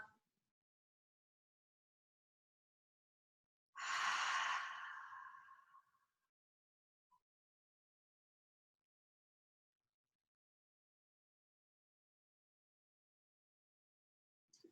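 A single deep exhale during a yoga session, a clear breathy rush lasting about two seconds in near silence, with only a tiny click afterward.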